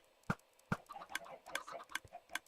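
Minecraft dispensers click as they fire eggs from hoppers, followed by soft chicken clucks as chicks hatch, sharp separate ticks spaced irregularly and fairly quiet.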